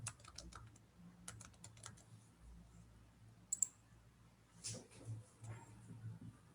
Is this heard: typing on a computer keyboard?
yes